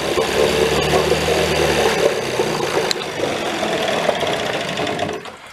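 An old engine on an abandoned 7-foot boat runs loudly nearby with a rough, knocking idle that dips after a sharp click midway and fades near the end.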